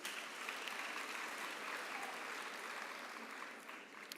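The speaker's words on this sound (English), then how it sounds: "Can we give Professor Singh another round of applause?" A graduation hall crowd applauds Professor Singh with sustained, dense clapping that stays full and even before slowly thinning toward the end.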